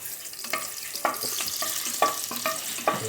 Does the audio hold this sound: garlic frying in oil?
yes